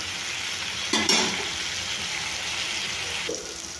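Hot oil fries steadily in a pan for Telangana-style goat head curry, a constant close sizzle with two short louder bursts as something is stirred or added, and no talk.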